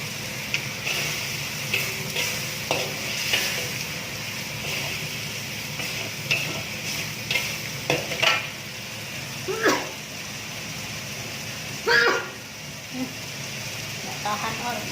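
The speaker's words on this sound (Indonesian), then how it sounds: "Kita masukin bawangnya yang diiris-iris tadi." Sliced onions hit oily chili sambal in a hot pan, giving a steady, close sizzle broken by stirring scrapes and clinks for about fifteen seconds.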